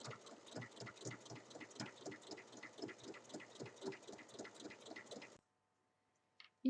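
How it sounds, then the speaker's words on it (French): A sewing machine stitches closed the opening left in a pencil case lining with a tiny edge stitch, a quiet, rapid rhythmic chugging for about five seconds, then stopping, followed by a brief handling clunk. "il faut venir fermer l'ouverture qu'on a laissée dans la doublure avec un tout petit point bord à bord à 1 mm à la machine"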